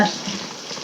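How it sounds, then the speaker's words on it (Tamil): A soft, steady bubbling hiss of water boiling in a pot, close by and continuous, with no talking. "தண்ணி நல்லா கொதிக்குது"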